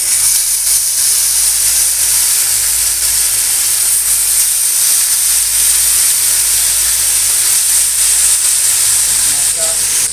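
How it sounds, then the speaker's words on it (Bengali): Fish frying in hot oil in a pan, a loud, constant hiss and sizzle running unbroken, with no talking. "এবার তেলটা গরম হলে মাছটা ভেজে নেব।"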